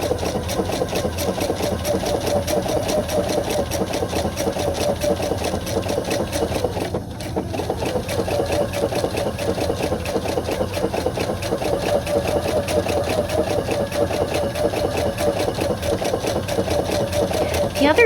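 A sewing machine stitches appliqué fabric at a slow, even pace, giving a steady close mechanical whir with fine rapid ticking throughout, while a voice talks over it.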